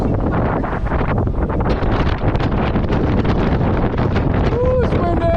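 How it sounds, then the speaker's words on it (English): Heavy wind buffeting a microphone during a fast electric scooter ride on a Wolf King GT, loud and continuous throughout, with a voice shouting and whooping over it. "Ooh, it's windy! Woo! It is windy!"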